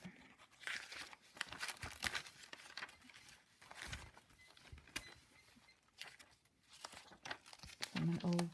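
Sheets of old paper, including a blueprint, are handled up close: crisp crinkling and rustling come in repeated bursts, with a voice speaking briefly.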